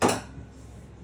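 A fork clinks sharply once against a bowl while stirring flour into pasta dough, followed by a soft, faint scraping tail.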